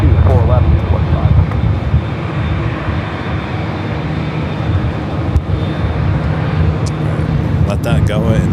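An airliner takes off from runway 24 left at Los Angeles International Airport, a loud, steady roar of jet engines mixed with wind noise. Radio voices and talk run over the engine noise.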